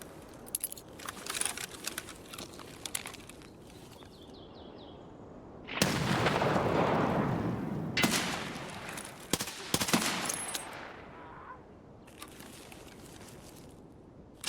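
An M67 grenade airburst and gunfire in a first-person shooter game: scattered sharp shots, then a loud broadband blast that roars for a couple of seconds, followed by more bursts of fire and clicks, with no talking.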